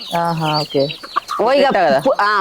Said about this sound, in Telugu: ఇది అదే కోడి దాని బిడ్డ చచ్చిపోయింది